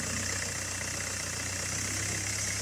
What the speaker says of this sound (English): I'm going to start the engine, I'm going to let it warm up